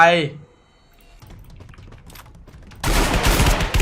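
M60 machine gun fire in the video game Free Fire erupts loud and dense near the end, after a quiet stretch of clicking and a brief voice at the start.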